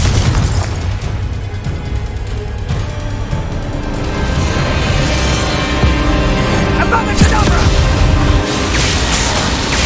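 Booming Confringo blasting spell in Hogwarts Legacy, a sustained roar of explosive rumble and crackling bursts filling the whole stretch, loud and close with no pause.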